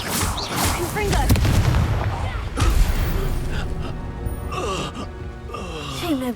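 A Confringo fire spell blasts in Hogwarts Legacy, a booming explosion with a rumbling low burst near the two-second mark, mixed with other loud combat effects and brief voiced gasps.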